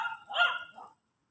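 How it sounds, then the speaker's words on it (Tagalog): A dog gives a single short bark, faint and slightly distant, followed by a brief softer yip before silence. "Ang daming aso."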